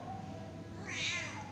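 A stray cat gives a single short, close meow that rises and falls in pitch over a low background hum.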